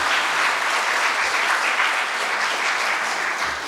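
An audience at a business school speech claps together in a dense, steady burst of applause that holds for a few seconds before easing slightly.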